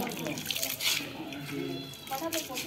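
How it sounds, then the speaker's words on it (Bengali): Water pours from a container onto soil in a pot holding a freshly planted plant, making a steady splashing trickle under a speaking voice. "তারপরে জল দিয়ে দিলাম।"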